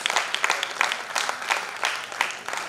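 Audience applause at an award ceremony for an organisation's sixth Founder's Day in Dehradun, a steady burst of clapping with scattered louder claps that fills the whole short stretch.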